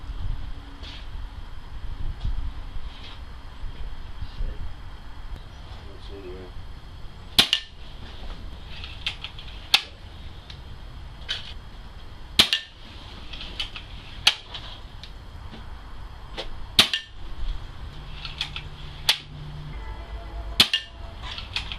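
A BSA Airsporter Mk6 air rifle fires with its silencer removed, giving sharp, loud cracks spaced a few seconds apart, roughly eight shots over a low background hum with faint mechanical clicks between them.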